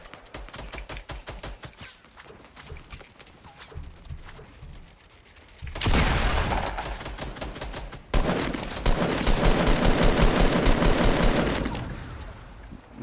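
Rapid automatic gunfire in a battle royale video game, with dense bursts of machine-gun fire that grow loud and sustained after the first few seconds, layered over quieter gameplay sounds.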